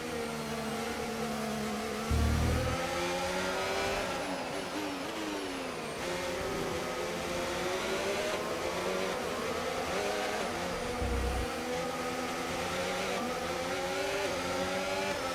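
Formula 1 cars in the F1 25 racing game, including a Ferrari, scream past with high, rising and falling engine whines and gear shifts, loud and continuous with overlapping cars.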